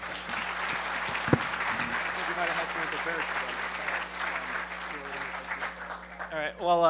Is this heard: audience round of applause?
yes